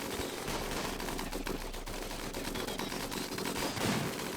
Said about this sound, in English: Straight in the middle of all that gunfire.